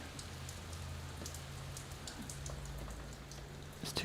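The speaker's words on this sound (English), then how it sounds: "Oh, it is definitely raining." Rain falling outside, heard through an opened window as a soft, steady patter and hiss with scattered drops tapping nearby surfaces, continuous and fairly quiet, with no voices.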